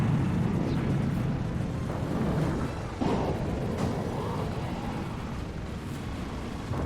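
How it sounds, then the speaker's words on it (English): Power missiles fire from the Hammerhead vehicle in the PS1 game Twisted Metal, heavy booming bursts over a continuous roaring rumble of engines and explosions. "Instead, I should take these 6 power missiles."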